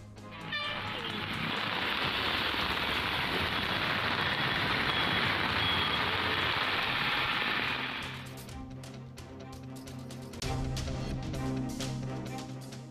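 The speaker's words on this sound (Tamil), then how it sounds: "ஸ்ரீவில்லிபுத்தூரில் சூறைக்காற்றுடன் ஒரு மணி நேரத்திற்கும் மேலாக கனமழை." Heavy rain with strong winds in Srivilliputhur pours as a loud, dense hiss for about eight seconds, then eases into quieter patter with low rumbling and scattered knocks.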